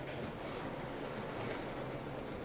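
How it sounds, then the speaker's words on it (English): Steady rush of water and surf slapping against a concrete pier as a large cruise ship inches in to dock at St. Thomas, a constant broadband wash with some wind noise and no voices. "You hear the water hitting the pier as we're inching closer and closer."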